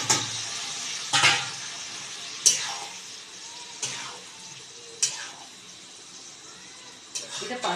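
Sweet pumpkin pieces fry in goat fat in a pan with a steady soft sizzle, broken by several sharp bursts of crackle and stirring scrapes spaced a second or so apart.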